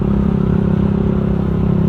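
Honda Sonic 150R motorcycle engine idling with a rough, loud, continuous clattering knock, close up and alone.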